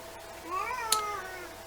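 A pet cat gives a single drawn-out meow that rises and falls, close and clear, with a faint click midway and no talking.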